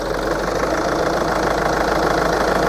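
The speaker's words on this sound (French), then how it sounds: "un diesel ça fait toujours du bruit et ça vibre toujours, mais là bon tu vois bien que ça vibre un peu trop quand même" A BMW X3 diesel engine idles with a steady, close knocking rumble and heavy vibration, a continuous loud drone with no voices over it.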